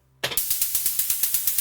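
A steady 16-note run of crisp, analog-synthesized hi-hat ticks in an even rhythm, bright and hissy, with no other sounds.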